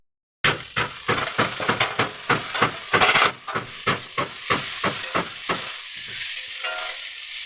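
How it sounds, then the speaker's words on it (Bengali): Fish being fried and stirred in a pan, with a spatula scraping in a steady rhythm of about a dozen close, loud strokes over continuous sizzling oil; no talking. "এই যেগুলো এখন ভেজে ভেজে নিচ্ছি আমি"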